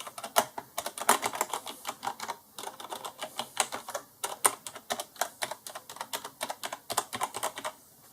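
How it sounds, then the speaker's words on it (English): Keys clack steadily and irregularly on a Corsair Strafe RGB mechanical keyboard, with close, crisp strokes in quick succession and no talk. "I go and press some keys"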